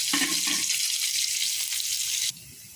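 Garlic fries in a pan with a close, steady, hissing sizzle and a little stirring clatter early on, until the frying noise drops away abruptly near the end.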